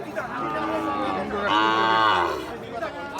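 Sahiwal bull calves low and moo at a busy cattle market, one clear drawn-out call rising mid-stretch over crowd chatter and nearby voices.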